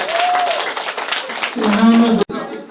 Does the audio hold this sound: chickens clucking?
no